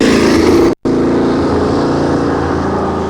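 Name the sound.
Cizeta Moroder V16T supercar engine accelerating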